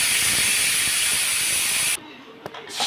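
A pressure cooker cooking mint rice loudly hisses and releases steam, close and steady for about two seconds, then cuts off abruptly into quiet with a small knock.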